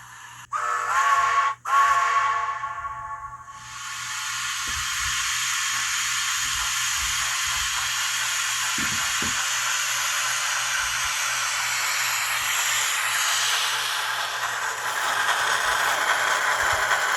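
Heisler model locomotive working under throttle: a steady, loud steam-like hiss and chuff that builds and holds, opening with a few sharp whistle-like toots and clicks before settling into a continuous rushing sound.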